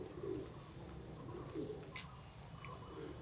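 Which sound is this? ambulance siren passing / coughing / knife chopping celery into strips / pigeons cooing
pigeons cooing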